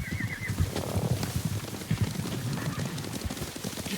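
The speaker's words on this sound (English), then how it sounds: "Horses, they're coming for us." Horses in a video game gallop with a rapid, thudding clip-clop of hooves, and a whinny cuts in at the start, all loud and close over a dense rumble.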